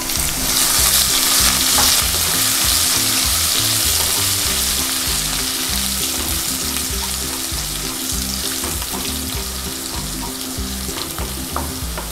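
Green chillies sizzle and crackle loudly in a hot pan for a homemade methi bhaji, a dense, steady frying hiss with rhythmic scraping as the pan is stirred throughout.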